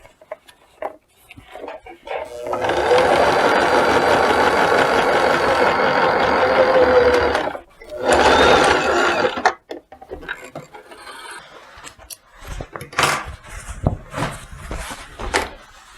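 A sewing machine stitches an elastic waistband onto wide-leg trousers, a loud steady whirring run of about five seconds, then a short second burst, followed by quieter handling clicks and rustles.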